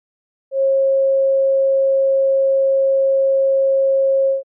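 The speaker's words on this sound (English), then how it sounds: "This is a sine wave, and it sounds like this." A steady pure sine test tone at a single pitch, loud and constant, sounding alone for about four seconds before stopping cleanly.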